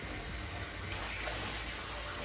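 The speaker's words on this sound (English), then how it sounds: "Fill up the bag of water." Tap water gushing steadily into a plastic bag being filled, a continuous rushing flow at close range with no talking.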